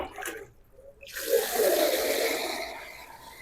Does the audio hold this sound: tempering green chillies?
no